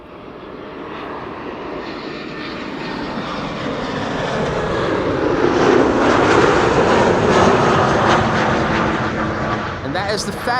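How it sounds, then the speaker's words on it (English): A KLM airliner arriving at Amsterdam Schiphol on a sunny day roars in, its engine noise swelling to a loud, broad rumble as it passes close by, then easing slightly, with no talk. "This is KLM flight 1070 arriving from Southampton,"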